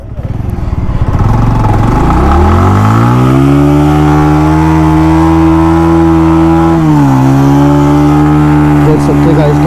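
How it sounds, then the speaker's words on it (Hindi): A motorcycle holds a loud, steady revving burnout up close, its engine pitch climbing early and then droning at high revs, with a brief dip near the end. "बाकी अभी यहाँ पे रोकते हैं और मस्त से बर्नआउट मारते हैं।"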